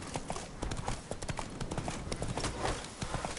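Hooves of the horse Roach clopping in a video game, a brisk, steady run of close hoofbeats heard on their own.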